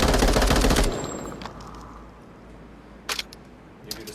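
Reloading a MARSOC weapon in the VR video game Onward, a loud burst of gunfire then a quiet stretch with a few sharp mechanical clicks and clacks of the magazine and action.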